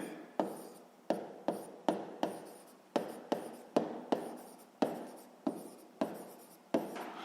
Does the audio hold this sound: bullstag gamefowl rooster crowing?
no